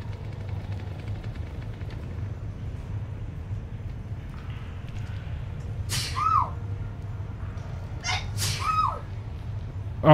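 Two sharp sneezes a couple of seconds apart, loud and close over a low steady background hum, during a live stream of Texas Chain Saw Massacre: The Game.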